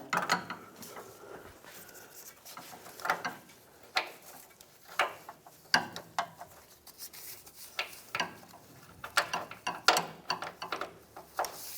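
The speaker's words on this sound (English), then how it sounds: "It's a 19mm, and you'll need a swivel head, long ratchet to get to it." A long swivel-head ratchet works a tight 19mm power steering return hose fitting under a 1996-2002 Toyota 4Runner, reached between the sway bar and the transmission pan. Irregular close clicks, scrapes and sharp metallic knocks come in spaced bursts, fairly quiet.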